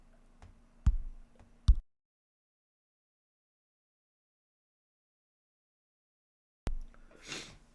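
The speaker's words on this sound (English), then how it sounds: "I'm gonna take this this sneezing as a sign" A streamer sneezes indoors: a few sharp, close bursts with breathy snorts, then a long silence before another loud sneeze and a trailing exhale.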